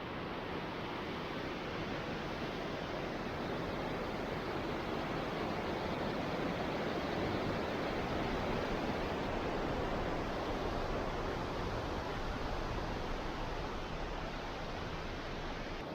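Waterfall along the Roaring Fork Motor Nature Trail near Gatlinburg, a steady broadband rush of falling water, constant and moderately faint throughout, with no voices.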